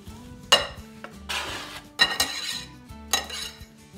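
Spoon stirring and mixing chopped avocado salsa with cilantro in a bowl, giving three bursts of scraping and clinking against the dish, each separated by a short pause.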